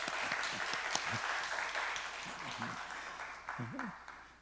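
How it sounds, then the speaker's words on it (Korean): A church congregation applauds the pastor at a Sunday afternoon service, soft, fairly distant clapping spread across the clip, with low murmuring voices underneath. "장원석 목사님께 감사하다고 크게 박수로 드립니다."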